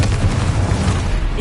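A Confringo blasting spell explodes in the Hogwarts Legacy video game, giving a loud, deep, rumbling boom that fills the short moment at close range.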